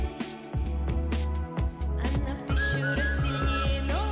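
A whistled melody in a Russian song, bright sliding whistle notes over a pulsing beat and bass, growing more prominent in the second half.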